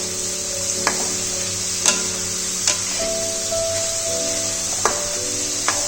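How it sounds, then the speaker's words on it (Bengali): Potatoes frying in a pan until light brown, a continuous close sizzle broken by occasional sharp clicks and taps of a utensil against the pan, no talking. "আলুগুলো হালকা ব্রাউন হওয়া পর্যন্ত ভালো করে ভেজে নিতে হবে"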